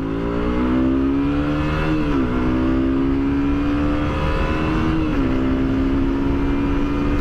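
A KTM Duke 125 BS6 motorcycle from 2020 pulls hard from low revs, its engine note climbing steadily with two brief dips at gear changes, loud and close with no talk.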